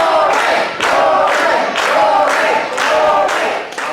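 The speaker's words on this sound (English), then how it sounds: "you can hear this crowd come alive for the New Age Plague" An arena crowd at a live pro wrestling championship match cheers loudly in rhythmic surges, about one per second, like chanting with clapping, close and full throughout.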